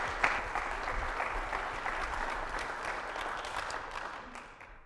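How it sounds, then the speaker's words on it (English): Audience at a 1 Million Cups startup event in Kansas City applauding a speaker from EON Sports VR, a fairly soft, even round of clapping from a modest crowd that tapers off near the end. "So give him a round of applause"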